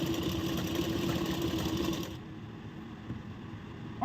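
A sewing machine stitches blouse fabric in a fast, steady, even run for about two seconds, then stops, leaving quiet room tone.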